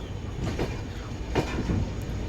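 Train 16362, the Velankanni to Ernakulam service, pulls in near Tiruvarur junction with a steady low rumble and faint wheel clatter running throughout.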